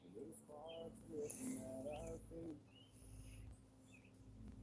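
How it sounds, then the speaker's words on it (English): Birds chirp and call outdoors, heard faintly from a distance through a window, as a few short repeated notes while a person talks quietly nearby. "so maybe you can hear the birds. They're going crazy out there."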